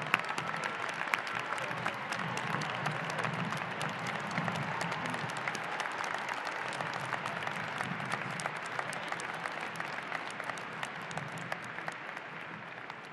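A large outdoor university commencement crowd claps for a graduate, dense sustained applause with no letup from start to end.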